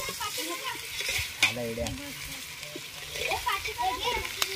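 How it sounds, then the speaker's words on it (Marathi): Tomatoes sizzle as they are sautéed and stirred in a pan for bhurji, giving a steady frying hiss with occasional scraping strokes. Voices, including a child's, talk over the cooking throughout. "टोमॅटो पण परतवायचा आहे एक प्रकारे."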